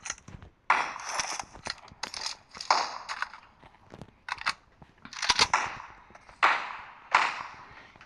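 Mini14 rifle fire in the PUBG battle royale video game: a series of sharp, crisp shots in irregular bursts, some close together and others spaced apart, fairly loud with brief decays and no talk.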